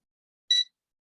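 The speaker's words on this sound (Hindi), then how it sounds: "मैं इसको बीप मोड में लगा देता हूँ" A multimeter in continuity mode gives one short, clean electronic beep, close and brief, with silence before and after.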